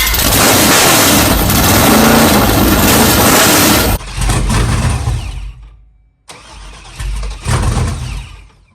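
A supercharged 408ci V8 in a Trans Am fires up for the first time and runs loudly with rough throttle blips, briefly cutting out and dropping near silent before catching and roaring again, close by.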